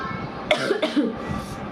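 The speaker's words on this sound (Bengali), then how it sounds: "আমার কাশি তো আমার কাশি আসবে একটু পর পর" A woman with a sore, hoarse throat coughs a few times in quick bursts, close and fairly loud against a quiet indoor background.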